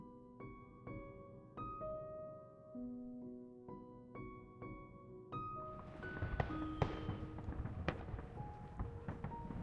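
Fireworks in the video game Love & Deepspace, starting as soft musical tones and then bursting into a dense stretch of crackling pops and booms over the game music, loud and continuous toward the end.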